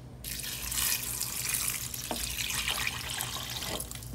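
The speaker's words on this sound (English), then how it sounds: "now I'm going to add some water" Tap water pours steadily into a cooking pot for homemade vegetable stock, a bright continuous rushing splash that starts abruptly and runs on without pause.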